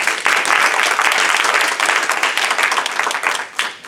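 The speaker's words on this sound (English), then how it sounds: "Let's give the Lord a hand clap and pray." A church congregation claps hands together during a Sunday morning service, a loud, dense burst of applause that holds steady for several seconds before thinning out, with faint voices mixed in.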